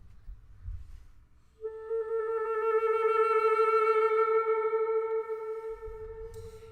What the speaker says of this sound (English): timbral trill, which sounds like this normally.